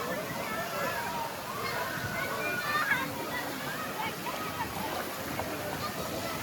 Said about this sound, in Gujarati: તો તમે જોઈ શકો છો હમણાં પાણી ભરાશે અને પછી પાછું ઠલવાશે પાણીમાં.